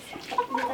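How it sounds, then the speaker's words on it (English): Farm chickens give a short burst of soft, close clucks and murmuring calls, a few quick notes overlapping in under a second. "Bye, chickens. Bye, chickens."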